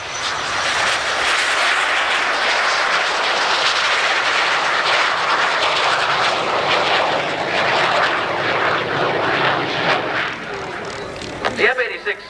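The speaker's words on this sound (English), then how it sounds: "On takeoff roll, ladies and gentlemen, from the Combat Jets Flying Museum in Houston, Texas, a Russian MiG-15 and an F-86 Sabre." Roar of a Russian MiG-15 and an F-86 Sabre jet fighter on their takeoff roll at a 1988 Confederate Air Force airshow in Harlingen, a loud, steady broadband jet rumble that fills the whole stretch, with brief bursts near the end.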